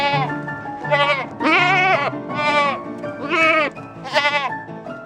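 Goats grazing on flowers and landscaping bleat loudly and close by, with about six wavering, nasal calls coming one after another with short gaps between them.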